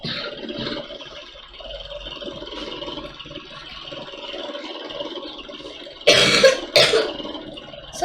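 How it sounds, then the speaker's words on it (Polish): A sick person coughs twice in quick, loud, close bursts after a stretch of quieter background noise. "sorry za ten kaszla"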